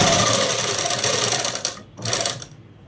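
A sewing machine stitches straight seams in fabric for a matching mother-and-daughter dress, running in a close, rapid whirr that pauses briefly and then starts again.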